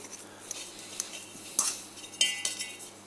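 Venison stuffing being mixed with utensils: quiet clinks and scrapes of metal against a bowl, a few sharper knocks in irregular succession, close and faint, no speech.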